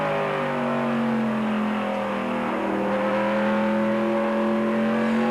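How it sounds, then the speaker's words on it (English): Race car engine on the throttle through a corner at a 1999 USAR Hooters Pro Cup Series race at Greenville-Pickens, a steady loud droning roar with a rising and falling pitch as the car accelerates, with no voices. "You can hear the throttle."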